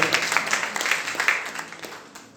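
A church congregation applauding during a sermon, a dense run of clapping that slowly tapers off over a couple of seconds.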